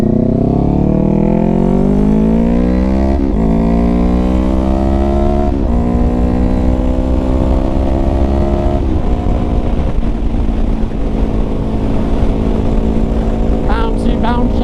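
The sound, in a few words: Kawasaki Ninja 400 motorcycle riding with upgraded rear shock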